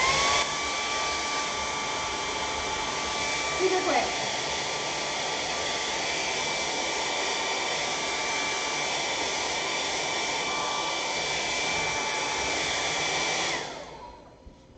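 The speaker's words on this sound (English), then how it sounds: "So my hefty difty hair dryer is perfect for this." A hefty hair dryer blasts steadily at close range to dry acrylic paint on a canvas, a continuous loud whoosh that runs for about thirteen seconds before cutting off, with a brief spoken remark near the start.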